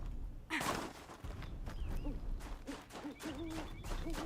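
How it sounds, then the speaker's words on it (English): An owl hoots in a few short, rising calls against a background of outdoor ambience in the video game Horizon Zero Dawn, heard clearly without any talk over them. "I can hear the owl."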